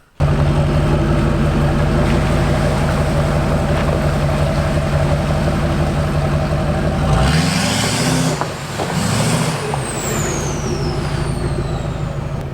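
A pickup truck engine idles with a loud, steady exhaust drone, then revs in a few sharp rising bursts partway through before settling back to a rumbling idle.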